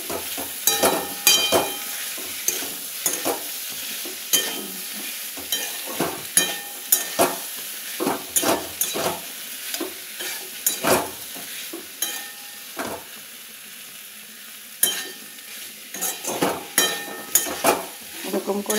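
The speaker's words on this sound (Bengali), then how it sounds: "এবার পোস্তটা দিয়ে একটু ভাজা ভাজা করবো পটলটাকে।" Pointed gourd fries with poppy seed paste in a pan and is stirred again and again, so a low sizzle runs under frequent sharp scraping and clattering strokes, close and uneven in rhythm, with no talking.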